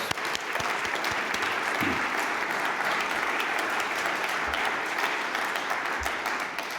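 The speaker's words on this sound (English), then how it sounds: "Jens, my applause." Sustained loud applause from a large audience at the Munich Security Conference 2022, dense continuous clapping throughout with no pauses.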